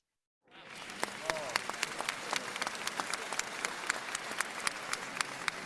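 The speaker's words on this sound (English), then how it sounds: "Huge congratulations and a big round of applause for Team 33." Applause from a ceremony audience greeting an award-winning team at a design challenge grand final, dense steady clapping starting after a brief silence and continuing evenly, with faint voices underneath.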